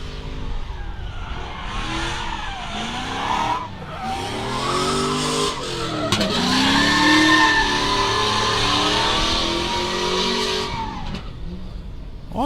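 A BMW Z4 drifting at Meremere Drift Park during a qualifying round, its engine revving hard under continuous loud tire squeal, sustained and close throughout with the pitch rising and falling as the car slides.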